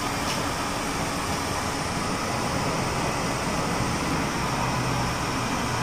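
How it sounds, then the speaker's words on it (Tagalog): A homemade blower runs in a steady, dense roar of rushing air, loud and unbroken throughout with no talking over it. "Brian, gumagana na yung blower."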